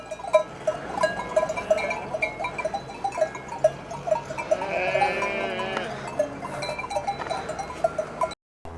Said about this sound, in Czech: Tak máme tady klasický traffic jam, dívejte se, ovečky, ty mají přednost v Albánii